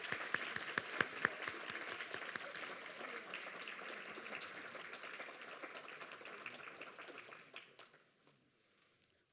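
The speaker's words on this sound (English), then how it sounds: "It's all right to clap." An audience at an annual public theology lecture applauds: a few distinct sharp claps open, then a moderate wash of clapping that thins out and dies away to near silence.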